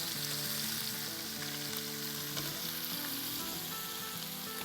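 Fish pieces fry in a pan with a continuous, dense sizzling crackle, close and even throughout, with faint background tones and no talking.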